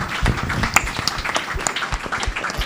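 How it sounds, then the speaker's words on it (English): Dense audience applause at a career clinic event fills the room, many hands clapping steadily and evenly at moderate loudness with no voices over it. "Another round of applause, ladies and gentlemen"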